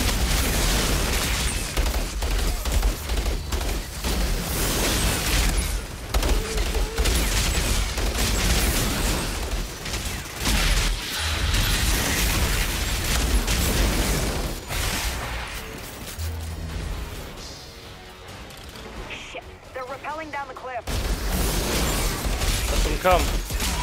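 Weapons fire nonstop in the shooter game Outriders, a loud, dense barrage of gunshots and blasts that thins briefly near the end before resuming, with a voice talking over it.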